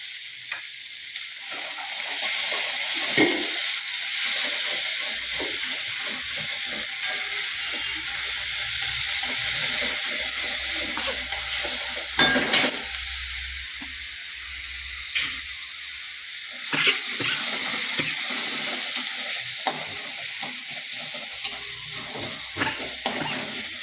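Onion, garlic, ginger, green chili and cumin paste sizzling in spiced oil with frying tomatoes, a steady loud hiss with occasional stirring scrapes throughout, no voices.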